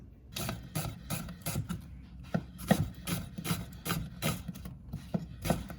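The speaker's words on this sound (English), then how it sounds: "you're going to dice your onion and your garlic" Knife chopping onion and garlic on a cutting board in a home kitchen while making chili: a steady series of sharp, close knife taps at a quick, slightly uneven rhythm, with no talking.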